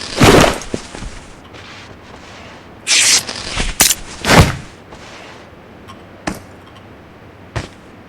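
Gunfire in the mobile battle royale game PUBG Mobile, with an MK rifle in use: several sharp, loud shots and short bursts spread across the stretch, each separated by quieter gaps, with no talk over them.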